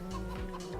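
Chickens cluck in the video game Farming Simulator 25, a few short clucks close by over a steady low hum, with no talking.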